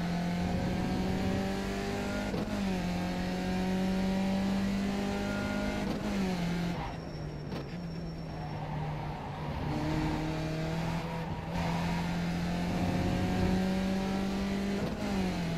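Radical GT3 race car engine in rFactor 2 drones steadily and loudly up close, pitch holding then dropping and climbing through gear changes, with a brief quieter dip midway before revving back up, no talk.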